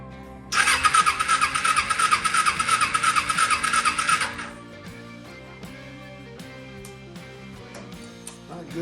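A Kawasaki Ninja sport bike engine with low compression cranks over during a compression test, a loud, steady, pulsing whir for about four seconds that then stops, leaving faint clicks and a low hum.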